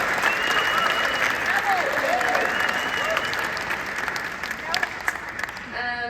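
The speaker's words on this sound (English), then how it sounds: "Please give her a round of applause." An audience at a book fair presentation claps in sustained, fairly dense applause that fades toward the end, with a voice speaking over it.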